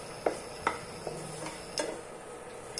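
Poha ingredients are dry roasted in a pan and stirred with a spoon, giving a few faint, sparse scrapes and light ticks over a quiet, low sizzle.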